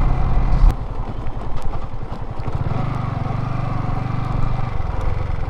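A Venom motorcycle ridden slowly along a badly broken road, steady low engine putter with rattling clatter from the rough surface, close and continuous with no talk.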